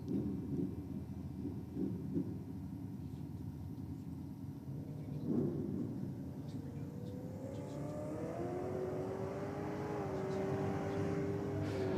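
VK Commodore drag car accelerating down the strip, a rising engine drone that climbs steadily in pitch and holds near the top as it hits the limiter, heard from a distance with no talk.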